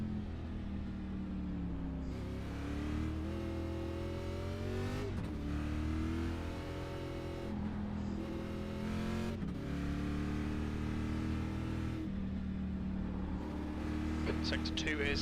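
Race car engine from the iRacing sim, sustained and loud with rising and falling revs through gear changes, a driver sliding around on a hard-to-drive car, with a person talking over it.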